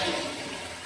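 A toilet flushes, a short burst of rushing, gurgling water heard up close while a cast iron toilet flange is being replaced.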